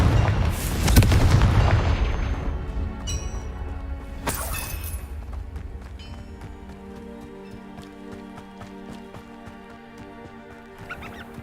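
Fire spell blasts cast in Hogwarts Legacy: a loud booming burst at the start with crackling debris, then a second sharp blast near four seconds, trailing into fainter game effects and a late small burst.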